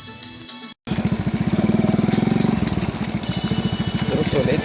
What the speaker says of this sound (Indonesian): Terus kita masih pakai motor brekele ya